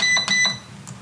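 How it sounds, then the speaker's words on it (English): A bread machine set to its dough cycle gives a few short, high electronic beeps in quick succession, close by, over a low steady hum. "sorry about the noise of the bread machine"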